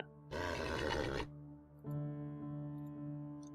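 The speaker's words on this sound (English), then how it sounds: "I'm breaking in this horse." A horse being broken in within the TerraFirmaCraft video game lets out a loud, harsh whinny-like burst lasting about a second, followed by a steady tonal drone.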